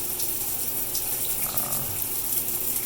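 Water streams steadily from a brand-new Darsco shower head with partly clogged pinholes, a loud continuous hiss and spatter that holds evenly throughout.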